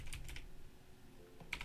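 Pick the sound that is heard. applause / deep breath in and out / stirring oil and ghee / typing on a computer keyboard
typing on a computer keyboard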